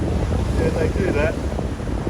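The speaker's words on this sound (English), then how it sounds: "We're just riding the swell here." A fishing boat rides the ocean swell off Palm Beach in New South Wales, loud gusting wind buffeting the microphone over a low rumbling wash of water, with a voice briefly audible beneath.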